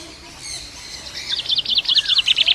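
High, rapid chirps and tweets from lovebirds, starting faint and building into a dense, insistent twittering toward the end.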